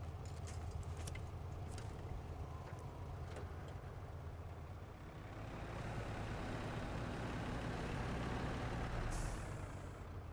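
A Kenworth W990 truck engine drones low and steady while pulling a trailer in the Snowrunner video game, with a few faint clanks and a hiss of air near the end.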